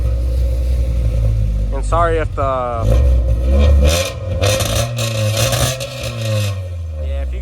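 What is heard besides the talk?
Honda EG hatch with new exhaust revving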